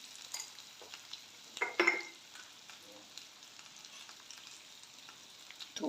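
Potato bhaji frying in a pan with soft, faint sizzling and a few scraping stirs of a spoon against the pan, quiet and close, with small clinks toward the end.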